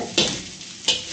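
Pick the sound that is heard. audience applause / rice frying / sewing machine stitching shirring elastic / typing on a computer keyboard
rice frying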